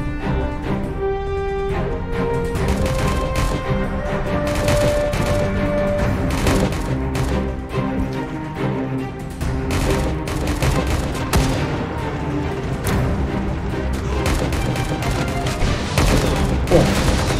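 Machine gun and rifle fire in the mobile strategy game Pocket War, a dense continuous barrage of shots and booms layered over game music throughout.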